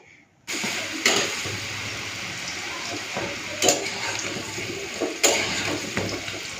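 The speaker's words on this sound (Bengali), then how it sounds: "একটুখানি কোপ্তাগুলোকে ভেজে নেব" Oil sizzles steadily in a pan as red lentil fritters fry, with a few louder bursts and scraping stirs now and then; no voices.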